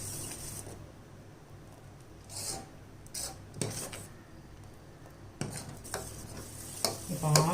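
A spoon scrapes and stirs custard milk with sugar in a pan for mango custard, making soft rasping strokes that come in bursts and louder scrapes near the end, with no voices.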